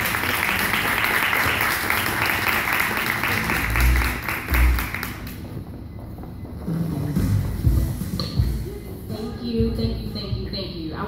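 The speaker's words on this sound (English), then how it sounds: "Please clap your hands for Jamila." Audience applause at a talk welcoming a youth advocate to the stage, thick and sustained for about five seconds, then fading as a speaker's voice takes over with scattered claps beneath.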